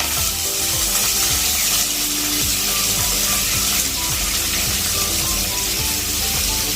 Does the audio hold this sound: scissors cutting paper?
no